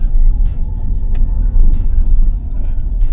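Mazda CX-80 PHEV Kuro Edition engine starting as EV mode is cancelled, a close low rumbling drone from inside the cabin that holds steady for a few seconds.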